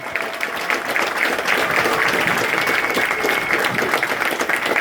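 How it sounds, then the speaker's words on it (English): A crowd applauds at the grand opening of little league fields in Ingram, Texas, a dense and even patter of many hands clapping throughout. "one more round of applause"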